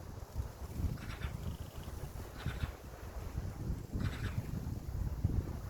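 Strong wind blows outdoors on a bright, sunny day, a steady low rumbling buffet against the microphone that gusts and swells throughout, with faint hissing bursts now and then.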